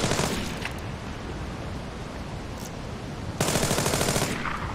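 Sustained automatic gunfire from the stealth shooter Splinter Cell Blacklist, a dense continuous rattle of shots that drops slightly then surges louder near the end, with no voices.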